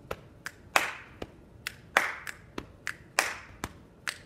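Rhythmic boom-snap-clap pattern performed with hands: sharp claps and finger snaps in a repeating quick sequence, close and clear with no talking.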